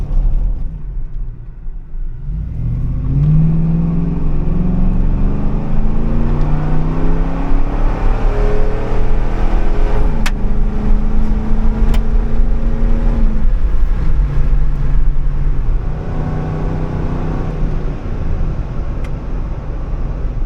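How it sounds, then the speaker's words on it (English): A 2004-2008 Ford F-150 with a Flowmaster Force II cat-back exhaust under wide-open throttle on a back road, heard from inside the cab as a steady, loud low engine rumble whose pitch climbs through the gears over about twenty seconds. "Up here off this back road, do like a wide open throttle pull."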